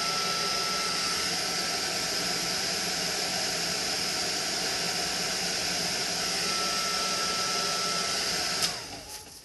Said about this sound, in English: I'm just going to heat it up, kind of reuse some of that glue